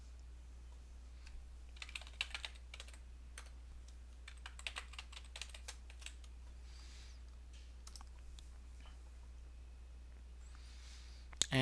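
Rapid, uneven keystrokes on a computer keyboard fill in name and password fields on a registration form, in bursts of close, crisp clicks with short pauses and no talking.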